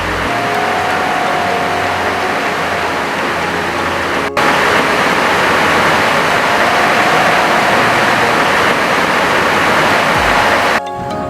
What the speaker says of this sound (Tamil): இது தாட் நுவாங் அருவி.